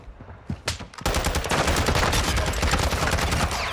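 Gunfire from the Iso Hemlock gun in a video game: a few separate sharp shots, then a dense, loud, rapid burst of automatic fire that carries on to the end.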